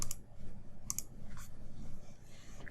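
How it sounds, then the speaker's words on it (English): Faint, sparse clicks from a computer keyboard as a contact's name is typed into a chat app, a few quick keystrokes in two small clusters over a low, quiet room hum. "I type Colin."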